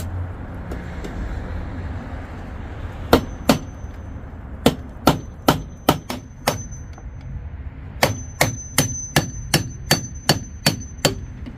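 A pry bar forces open an old storage container inside a dusty storage unit, giving a string of sharp metallic clangs, sparse at first then quicker and more regular, close and loud over faint background hum.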